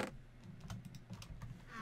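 Quick, uneven bursts of clacking keys on a computer keyboard, close and alone for a couple of seconds.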